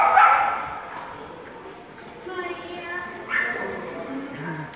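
Dogs bark and yip in a bigger-dog area of an animal shelter, moderately loud barks in bursts near the start and again later, with people talking over them.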